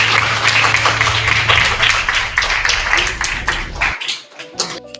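Audience at a social care and entrepreneurship gathering bursts into a loud, dense round of applause that carries on for about four seconds before breaking off, with a few scattered claps and voices trailing after.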